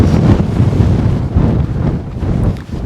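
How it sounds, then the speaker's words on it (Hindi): Strong, icy wind buffets the microphone in the cold Spiti Valley, a loud continuous low roar and rumble with gusty swells and no voices. "आप इससे इमेजिन करो कि कितनी तेज़ हवा चल रही होगी, और बर्फीली हवा, ठंडी हवा एकदम।"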